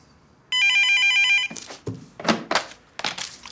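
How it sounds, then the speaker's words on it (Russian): A telephone on a Russian TV drama set rings in one sustained electronic trill lasting about a second, loud and clear, then stops as people begin talking. "вам звонит Мартынова"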